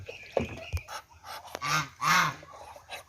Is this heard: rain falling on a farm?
no